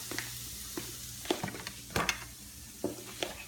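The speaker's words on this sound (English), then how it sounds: "We're going to stir it around a little bit so it doesn't stick to the bottom of the pan." Pasta being stirred in a pan, with soft scrapes and light sizzling broken by a few sharper clinks of utensil against the pan, close and fairly quiet.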